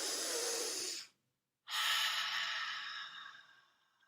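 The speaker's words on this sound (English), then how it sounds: "Take another deep breath." A long, deep inhale followed by a short pause and a slow, breathy exhale during a guided meditation, close and clear with no talking.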